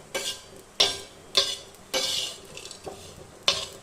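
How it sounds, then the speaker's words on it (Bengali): Spices and black pepper are stirred on a tawa for a chicken kala bhuna, with scraping strokes of a spatula against the metal pan in an irregular rhythm of about six sharp scrapes and clinks, close and fairly quiet, with no talking. "এটাকে আমি ভালো করে তাওয়ার মধ্যে নেড়ে নেব"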